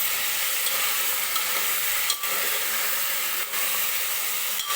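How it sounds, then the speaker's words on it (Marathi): Pav bhaji vegetables sautéing in oil, a continuous loud, even sizzle close to the pan, with a couple of brief dips where the hiss pauses for a moment. "ह्या ज्या भाज्या आहेत ते तेलामध्ये अशाच परतून घ्यायच्या आहेत"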